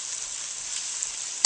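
Food sizzles in a frying pan on a cooktop, mid-cooking before being flipped. A steady, even hiss of frying continues close up without pause, with no talk.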